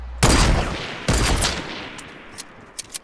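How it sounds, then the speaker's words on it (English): Rockets going off in a video game, two loud booming blasts about a second apart, each rumbling away, followed by faint distant pops. "Why do I hear rockets going off?"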